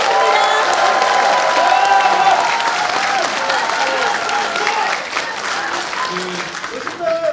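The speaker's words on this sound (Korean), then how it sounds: "큰 박수 부탁드리겠습니다" A talk-show audience claps loudly as a party leader steps up to speak, dense applause with some cheering and crowd voices, easing slightly in the final seconds.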